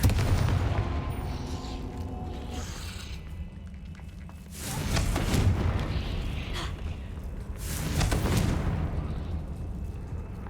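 Confringo fiery explosive spell from Hogwarts Legacy, heard as two heavy blasts a few seconds apart, each with a deep rumbling tail over steady game ambience.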